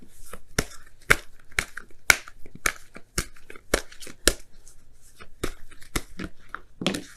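Oracle cards are shuffled and pulled for a tarot reading, a quick series of sharp, close card snaps and flicks in an irregular rhythm over a quiet background.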